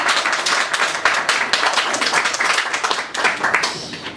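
A lecture audience, likely a church group, claps loudly and close by, with sharp, busy hand claps that briefly ease and then pick up again.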